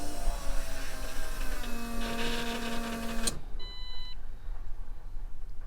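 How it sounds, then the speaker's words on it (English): An electric fuel pump primes on a Rally Camaro fitted with an Aces Jackpot LS computer, humming with a steady whir for about three seconds before cutting off, followed by faint electronic beeps. "Pump cycled, so that's good."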